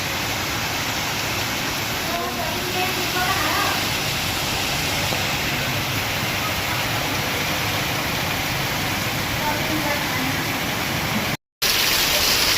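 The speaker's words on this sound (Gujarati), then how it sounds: "જો ગાઈસ મસ્ત વરસાદ પડે અને આટલા ઘર ઉપરથી બંબો પડે" Heavy rain pours down steadily, with water streaming off a house roof in a dense, continuous hiss. The rush stays loud and even, with faint voices now and then.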